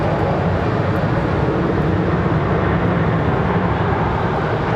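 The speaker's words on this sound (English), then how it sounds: "Southwest never fails. Look at that. Hard on the reverse thrust." A Southwest airliner lands with hard reverse thrust, a steady broadband roar heard at a distance in snowy conditions at Raleigh-Durham airport, continuous and even throughout with no talking.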